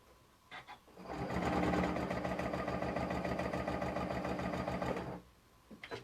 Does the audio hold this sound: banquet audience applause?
no